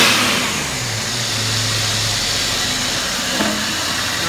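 A 6-liter LQ9 LS V8 engine on a test stand idles with a low steady rumble, rising briefly in pitch as it is revved a couple of times, loud and close with no voices.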